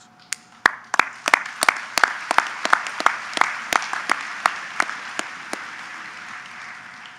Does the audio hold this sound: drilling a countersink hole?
no